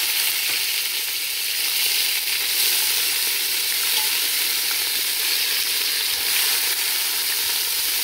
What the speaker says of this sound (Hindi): दो से तीन मिनट इसको ज़रा सा फ्राई करें मीडियम आंच में